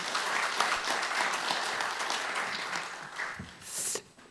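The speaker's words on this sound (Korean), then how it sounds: "큰 박수로 맞아주시기 바랍니다." Audience at an academic conference applauding to welcome a presenter, steady, dense clapping from a crowd that swells slightly near the end before stopping abruptly.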